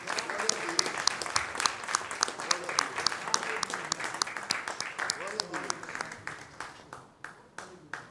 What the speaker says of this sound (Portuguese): Vamos aplaudir ao Senhor pelas nossas vidas?